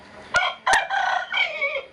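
A rooster crows close by in a loud, drawn-out call broken into several syllables, preceded by two sharp thumps.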